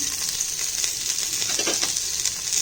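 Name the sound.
whole spices and ginger garlic paste frying in oil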